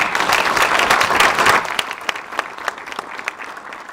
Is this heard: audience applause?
yes